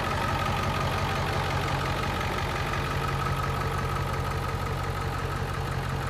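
A 1999 Ford F350 Super Duty XLT diesel pickup with a six-speed manual idles steadily, a constant close rumbling clatter with no variation and no voices.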